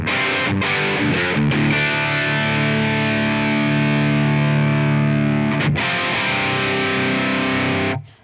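A heavily distorted electric guitar through high-gain pedals in AmpliTube 5, with compression, holds a thick, buzzing chord, chopped off abruptly by a noise gate between hits and cut to silence at the end.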